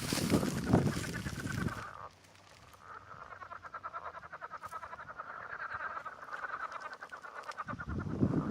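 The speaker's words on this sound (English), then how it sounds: "I guess those must be frogs." A chorus of frogs croaking near Lake McMurtry, a dense, rapidly pulsing trill that carries through the middle, with louder rustling noise at the start and end.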